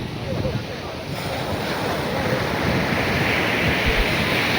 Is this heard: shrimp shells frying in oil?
no